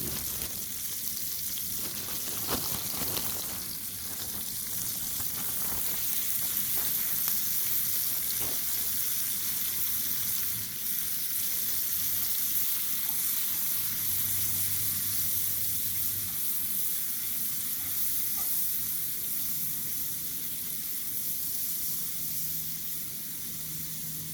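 Diced ham frying in a cast iron pan at a camp, a loud continuous sizzle and hiss with occasional stirring scrapes, close-up and steady throughout, no speech.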